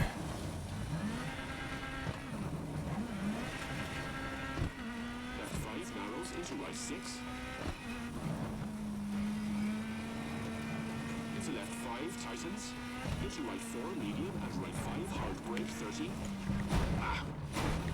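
A car driven in a video game played on a Nacon Revolution 5 Pro wireless PS5 controller: a steady engine drone that rises and falls in pitch with throttle, running continuously throughout, with occasional sharper knocks.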